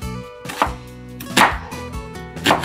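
Knife chopping tomato halves on a cutting board, three distinct sharp chops spaced about a second apart, close and clear with no talking.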